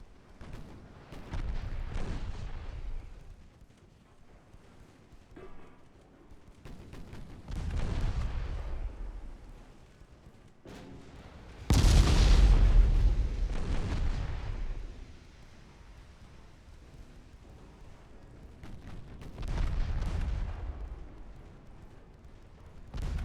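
Booming naval gunfire from 9-inch Mark 1 black and brown powder guns in a 1913 French campaign naval warfare game, several heavy blasts spaced a few seconds apart, each with a long rumbling decay, with no talk.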